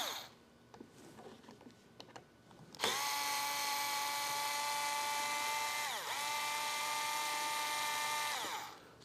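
A small power driver spins Torx T20 screws out of a motorcycle grip housing on a 2024-up Road Glide or Street Glide, a steady high whine with pitch dips, preceded by faint clicks and handling.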